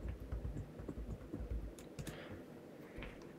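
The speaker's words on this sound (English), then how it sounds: "you have to type in your password" Password keys typed on a computer keyboard at a Chromebook lock-screen setup, a quick run of soft, close clicks with an uneven rhythm, spaced out over a few seconds with no voice.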